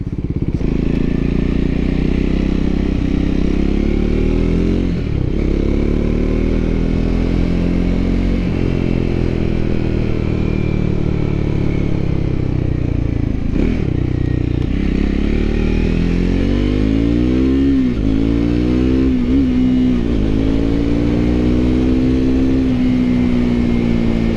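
A Triumph Scrambler 400 X motorcycle on its first ride, with a steady loud engine drone that rises and falls as the rider shifts through the gears and revs, heard close with no talking over it.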